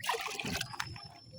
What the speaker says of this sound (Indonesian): Oke, langsung dicampur ke ember tadi.